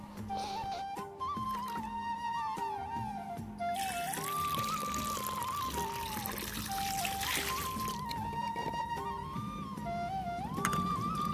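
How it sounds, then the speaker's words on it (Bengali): Water trickles and pours outdoors as fish are washed clean, a steady soft splashing stream that continues under faint background sounds. "মাছগুলো আমি বাইরে নিয়ে এসে ভালো করে পরিষ্কার করে ধুয়ে নেব"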